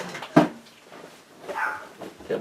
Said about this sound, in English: shut the door so you can't hear the barking dogs